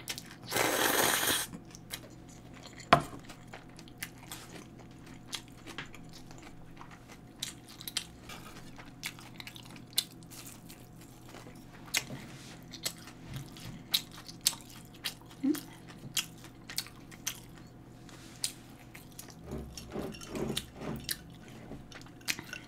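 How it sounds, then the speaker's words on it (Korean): Close, quiet mouth sounds of someone chewing springy jjolmyeon noodles, with steady wet bites and soft clicks through the whole stretch, a loud burst of rustle at the start and a few louder chews toward the end. "꼭꼭 씹어 먹어야 돼."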